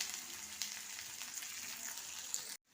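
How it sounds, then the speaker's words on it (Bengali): Medium-sized onions, thinly sliced, frying in oil with cardamom, cloves and cinnamon for an egg curry, a steady close crackling sizzle with a few sharper pops before it cuts off abruptly. "এবার দিয়ে দিলাম দুটো পেঁয়াজ, মাঝারি সাইজের দুটো পেঁয়াজ সরু সরু করে কেটেছি, দিয়ে দিলাম।"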